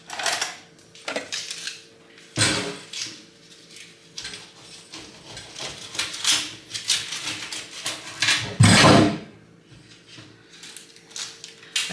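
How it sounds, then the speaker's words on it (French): A knife slicing through a lemon on a kitchen surface, with irregular close clicks, scrapes and thuds of the blade and board, one heavier chopping knock near the end. "je vais couper mon citron."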